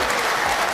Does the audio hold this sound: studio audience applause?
yes